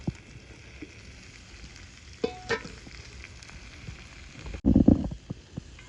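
Chicken sausages cook on a grill with a faint, steady sizzle, broken by a couple of short, louder clatters and a brief burst of activity near the end.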